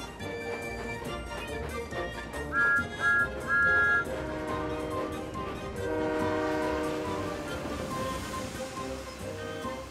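A cartoon train engine, Thomas, speeds up. A steady rolling rumble carries two short whistle toots, then a longer whistle blast over rising clatter. The sound is loud and fairly near, with no talking.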